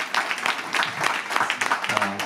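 An audience in a hall bursts into sustained applause, a dense, close wash of clapping that carries on for a couple of seconds, with a voice briefly audible near the end.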